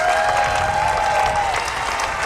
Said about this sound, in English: I think it deserves a loud round of applause.